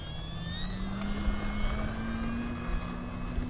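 An FMS Explorer RC model airplane takes off with a smooth electric motor whine that rises steadily in pitch over a constant wash of air noise, near and with no talk.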